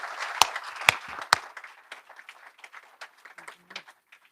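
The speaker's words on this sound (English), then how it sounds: "Give them another round of applause, please, please, please." An audience applauds a panel at a conference forum on children and families, with sparse, scattered claps, a few sharp ones near the start, then thinning out and fading to a quiet patter.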